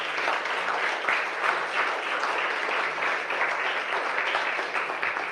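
A church congregation claps for Jesus during a worship service, dense sustained applause from a large crowd that holds steady throughout with no voices over it.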